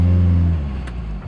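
A car with a 2.4L engine on a stock ECU running E85, driving with a low, steady engine hum that eases off after a moment, heard close and loud with no talking.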